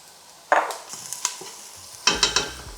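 Onions and allspice sauteing in a pressure cooker pot, with garlic, ginger, pimento and celery as aromatics: a low sizzle under bursts of stirring and scraping, with a few sharp utensil clicks and a louder stir near the end.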